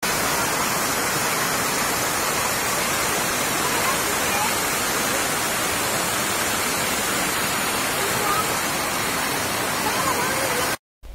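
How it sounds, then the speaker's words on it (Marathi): The Galhati medium dam in Ambad taluka, Jalna, overflows after heavy rain, its spillway producing a loud, continuous broadband roar of rushing water that fills the whole stretch before cutting off abruptly. "या नदीवर असलेला गल्हाटी मध्यम प्रकल्प ओसंडून वाहू लागलाय"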